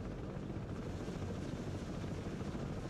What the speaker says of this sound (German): Ich komme erstmal den Heli runter.